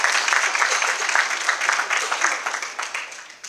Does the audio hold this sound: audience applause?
yes